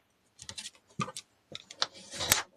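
Cardstock pop-up pieces for a pinwheel double-panel card are folded and burnished by hand: a series of close, crisp paper crackles, scrapes and taps arriving in short bursts, with no talking.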